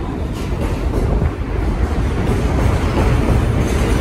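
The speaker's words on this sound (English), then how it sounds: "That's a work train. It's a garbage train." A New York subway work train hauling garbage rumbles past at Queensboro Plaza, a loud, continuous rolling roar of wheels and cars on the elevated track with no pause.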